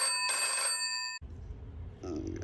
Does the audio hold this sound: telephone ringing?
yes